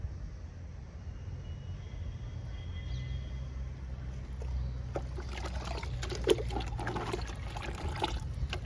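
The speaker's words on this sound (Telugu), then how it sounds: "ఈ లిక్విడ్లో వాటర్ని డైల్యూట్ చేసుకుందాము" Water pours into a homemade fertilizer liquid meant for lily and kanakambaram plants in a home garden. A low, steady rumble comes first, then a louder, splashing stream with small trickles takes over from about the midpoint.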